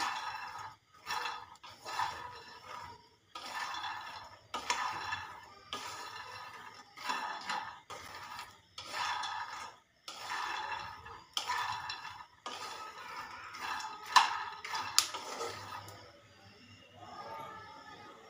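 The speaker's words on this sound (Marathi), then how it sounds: "असे चटचट शेंगदाणे भाजून घेऊया" Peanuts dry-roasting in a pan, stirred with a utensil in repeated scraping, rattling strokes and short pauses between them, close and fairly quiet throughout.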